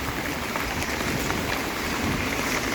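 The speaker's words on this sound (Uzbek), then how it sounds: "Do'l yog'adi." Hail falls at a lakeside boat pier on Issyk-Kul, a dense, steady, hissing patter that runs unbroken and fairly loud throughout.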